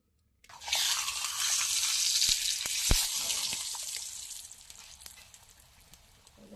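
A peas-stuffed paratha sizzles on a hot tawa in a close, steady hiss that starts abruptly, with a few sharp crackles midway before it slowly fades.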